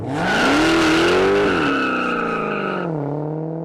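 A car engine roars loudly as it revs hard, pitch climbing and dipping through gear changes before easing to a lower drone.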